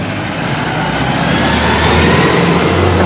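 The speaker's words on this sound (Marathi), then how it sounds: "गाडी लांब लाव ना गाडी" A vehicle engine runs steadily close by as a car is moved away from a burning company warehouse in Lote. There is a continuous low rumble and broad noise with no pauses.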